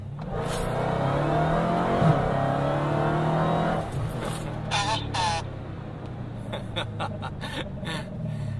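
A Dodge Challenger Hellcat on Nitto rear tires floored at full throttle, its engine roaring loud and close for about four seconds before the note drops, followed by sharper bursts and clicks.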